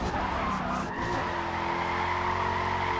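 Car drifting in Forza Motorsport, driven on a steering wheel: a steady, loud tire squeal runs throughout alongside a continuous engine drone, with no talking.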